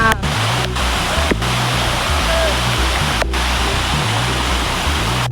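Ghogata waterfall pouring in a steady, loud broadband roar that fills the whole span without a break, with faint low rumbling underneath and no speech.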